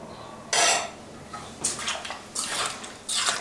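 A spoon scrapes and clinks around a bowl of lime juice, raw fish and chili for ceviche, in several short, bright strokes with quiet gaps between them.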